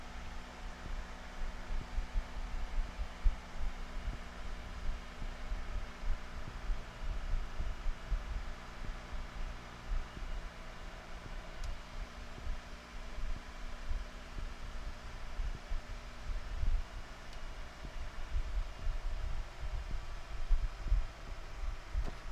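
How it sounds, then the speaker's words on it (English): AC compressor running on a 2008 Nissan Rogue AWD, a steady low hum with faint rhythmic throbbing, heard close and alone without talk. "Compressor just kicked in."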